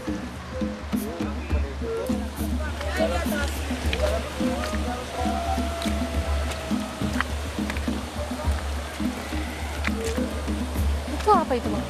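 Rushing water of a deep, strong-current river in Tangkahan, Langkat, churning steadily and close throughout while people wade across, with voices and splashes over the constant flow.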